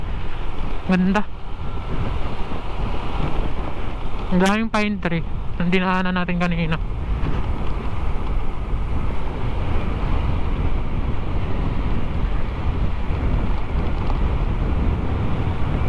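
Steady wind rushes and buffets across the microphone for the whole stretch of a mountain ride toward Jariel's Peak in Real, Quezon, among pine trees, with a few short bursts of talking early on.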